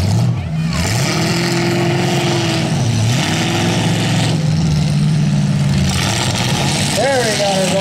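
At the Chinook Blaine County Showdown heat, a stalled car's engine catches again and runs loudly, idling with a droning tone before a sharp rev near the end, while an announcer talks over it.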